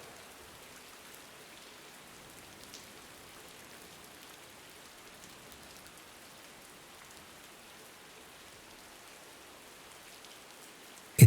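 Steady rain falls in an even, soft hiss that continues without a break, fairly faint and constant, with one brief louder knock at the very end.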